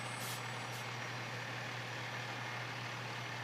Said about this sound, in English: Those fire trucks are really, really cool equipment.